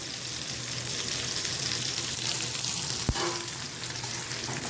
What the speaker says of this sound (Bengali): পেঁয়াজটা আমি ভেজে একটু তুলে রাখবো।